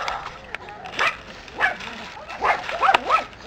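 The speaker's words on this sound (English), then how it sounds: "It's a dog!" A dog yips, barks and whimpers in short, excited bursts, close by, with some background commotion between the calls.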